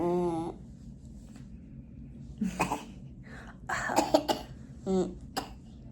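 A sick little girl coughs several times in short bursts, close by, with a brief vocal sound at the start and quiet pauses between coughs.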